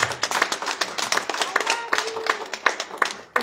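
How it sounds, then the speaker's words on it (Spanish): Audience applause at a book presentation, a dense run of many hands clapping that carries on steadily across the whole stretch, fairly close and lively. "Aplausos, por favor, para mí."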